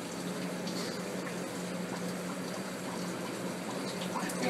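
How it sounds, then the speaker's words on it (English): Running tap water rinsing a spoon, a steady close hiss of flowing water that stays even throughout at fairly low level. "I really need to wash my spoon now"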